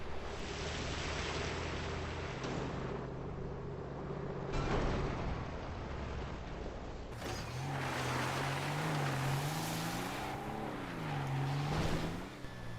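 A car in GTA Online ploughs through water, giving a steady rush of splashing surf-like noise. An engine drone rises and swells in the later half. No one speaks.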